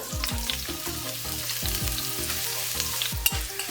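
Bay leaves and chopped ginger sizzle in hot oil for chicken biryani, a steady close crackle broken by repeated knocks of a spoon stirring the pan.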